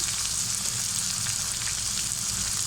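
Chopped onion, green chilli, spring onion and carrot hit hot oil alongside boiled chicken in a frying pan, giving a loud, dense, continuous sizzle with no talk.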